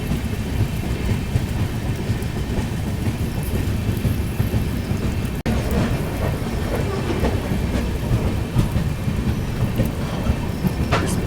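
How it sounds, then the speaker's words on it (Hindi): Train moving slowly through tea gardens during continuous rain, a steady, dense rumble and clatter of wheels on track, close and loud throughout, with a brief break near the middle. "धीरे धीरे ट्रेन इनके बीच से गुजर रही है।"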